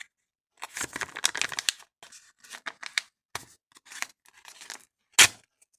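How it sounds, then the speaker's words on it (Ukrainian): Crinkly tearing of a plastic packet, several bursts of ripping and rustling, ending with one sharp loud rip close by. "А зараз ми відкриємо ось цей пакетик."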